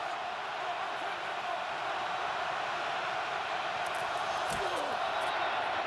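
Steady, dense roar of a stadium crowd at an NFL divisional playoff game between the Colts and Chiefs in Kansas City, a continuous wash of noise with no breaks.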